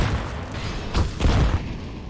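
An HE grenade in the game CS:GO bursts with a low, muffled boom and a short rumbling tail, heard during a professional esports match on the Inferno map over a steady background bed.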